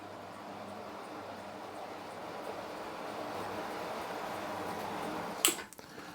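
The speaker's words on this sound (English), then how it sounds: "First time trains have run on the new Sandling Junction, albeit on old rubbishy track" A model railway train runs over a new junction on old, worn track, a faint continuous rolling rumble ending with a sharp click or clack.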